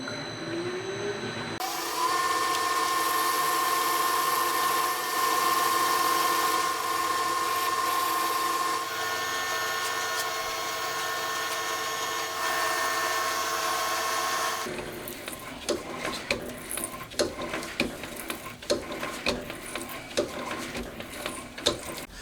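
A lathe knurls a threaded metal knob, giving a steady whirring machine drone with a whining tone. It then turns rougher and more clattery partway through, sounding close and continuous with no voices.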